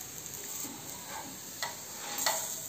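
Akki rotti, a rice-flour flatbread, cooking on its second side in a pan after being flipped, giving a faint, steady sizzle with a couple of soft ticks and pops.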